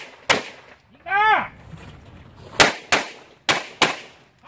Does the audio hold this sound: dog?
no